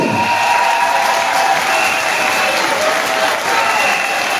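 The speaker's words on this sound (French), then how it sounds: "je vous demande de vous lever et de les applaudir" A seated audience applauds members of the press at a political gathering, dense continuous clapping from a large crowd filling the whole stretch at steady loudness, with a few murmured voices underneath.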